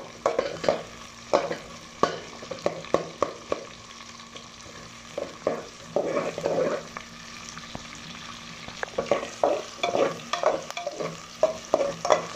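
Onion and aromatics sauté in a pan, with a steady sizzle under repeated scraping and stirring strokes from a spoon, close and fairly loud with no talking.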